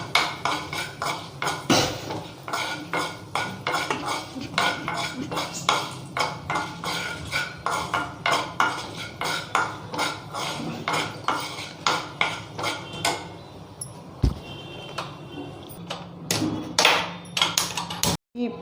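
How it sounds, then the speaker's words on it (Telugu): A spoon scrapes and clinks against a pan while turmeric is stirred into frying cumin for kachori, producing rapid repeated metallic knocks and scrapes that are fairly close and continue steadily with brief pauses. "కొంచెం వేగినప్పుడే దీంట్లో పసుపు వేసి కలపాలండి. బాగా కలుపుకోవాలి."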